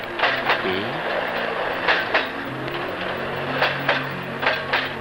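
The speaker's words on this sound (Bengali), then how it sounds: "ও মাই গড, ট্রেন ছেড়ে দিচ্ছে।" A train pulls out of a station in a Bangla film scene, with a steady rumble and a few rhythmic clacks and bumps from the wagons. The sound stays fairly close and even, with no talk.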